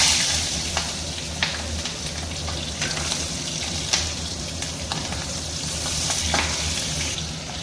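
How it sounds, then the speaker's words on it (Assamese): Onions frying in hot oil in a home kitchen pan, a steady broadband sizzle with occasional sharper crackles and pops, continuous and fairly close, no voices. "ধুনীয়াকৈ তেল গৰম উঠি গ'ল আৰু ইয়াতে অলপ পিঁয়াজ"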